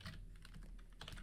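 A username being typed on a computer keyboard, with quick close key clicks in a short uneven burst and no talk.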